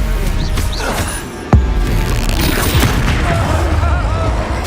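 A Stupefy spell fires during a combat scene in the Hogwarts Legacy video game, a sharp booming impact punching through a dense, loud layer of battle effects and music.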